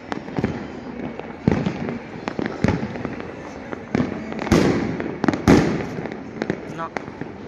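Diwali firecrackers explode outside in sharp, irregular bangs, some single and some in quick clusters, loud and fairly close, with voices in the background between the blasts.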